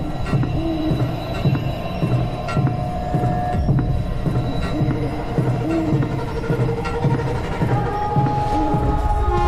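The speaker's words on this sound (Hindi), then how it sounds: "ट्रेन चल पड़ती है।" Passenger train at a station getting under way, with a steady low throbbing hum of rolling stock, rhythmic wheel-and-rail pulses and brief high squeals, continuous and fairly loud.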